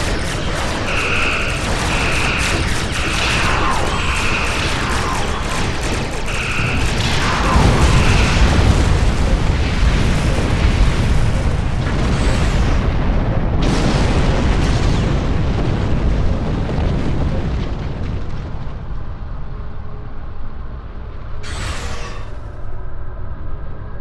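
Weapons fire and explosions rumble through a space battle in Star Trek Online, a dense, continuous barrage of booms and bursts with repeated tonal weapon pulses early on, loud and sustained throughout.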